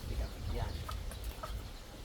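A rooster crows on a small farm plot around a hut, a short, moderately distant call under ambient noise and faint background voices.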